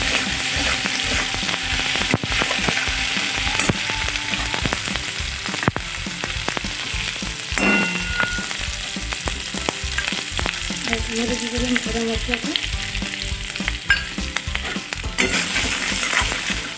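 Spices and potato pieces sizzle steadily in a hot pan for bread chop filling, with repeated scraping stir strokes and clinks throughout, close and fairly loud with no voices.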